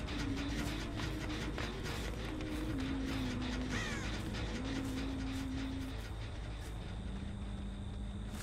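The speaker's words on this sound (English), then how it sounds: "There's a bird." In a Huntress video game, a crow gives a short rough caw over a constant dense background of game ambience and music tones.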